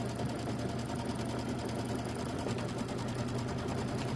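A sewing machine stitching a quilting template onto stabilizer or batting runs steadily and close, its rapid needle chatter holding an even rhythm for the whole stretch with no talking.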